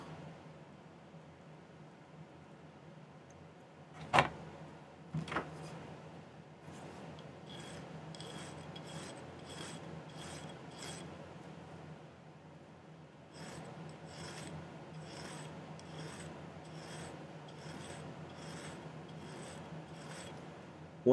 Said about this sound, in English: And then I'll have to file that end flat.